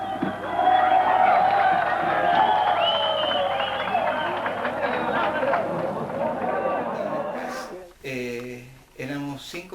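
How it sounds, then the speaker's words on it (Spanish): Crowd noise from people watching a prison escape by helicopter, a loud sustained roar of cheering and applause with mixed voices that breaks off near the end into a few short bursts. "Mira la gente como aplaude porque se fugaron"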